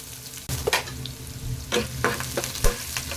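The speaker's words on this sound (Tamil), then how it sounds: "வெங்காயம் வந்து கொஞ்சம் லைட் கோல்டன் ப்ரௌன் கலரில் வரைக்கும் வதக்கிக்குவாங்க" Chopped onion cooks in oil with curry leaves for an egg roast, a crackling sizzle broken by several sharp scrapes and knocks of a spatula against the pan, loud and close with no talking.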